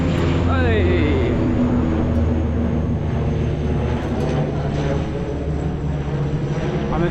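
A propeller airplane drones steadily in the distance as it takes off on an autumn day in Ottawa, a sustained low engine hum with a rising whine early on, with people talking nearby over it.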